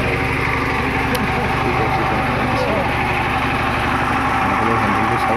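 A tractor engine drives a water pump in a village setting, giving a steady, loud mechanical drone that runs throughout without a break.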